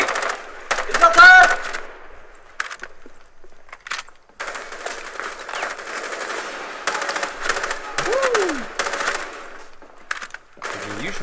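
Rapid automatic gunfire bursts from the video game Rainbow Six Siege, loud and close, with repeated volleys and short pauses, while players talk excitedly over the shooting.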